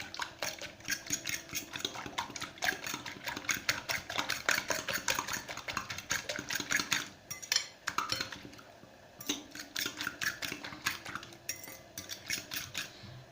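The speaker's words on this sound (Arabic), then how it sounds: "هنا راح نخلط المكونات اللي عندي." A utensil mixes ingredients with soft cheese in a bowl, making quick, continuous clicking and scraping strokes against the sides that run for most of the stretch, with a brief pause near the middle.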